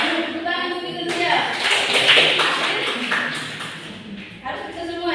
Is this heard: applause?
yes